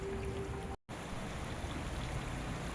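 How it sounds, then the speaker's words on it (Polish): A small stream flows steadily near a roadside pond and bridge in Memmingen, a soft continuous trickle and burble heard close by, interrupted by a brief dropout partway through. "strumyk sobie płynie"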